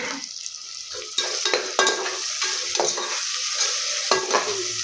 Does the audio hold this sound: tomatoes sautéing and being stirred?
yes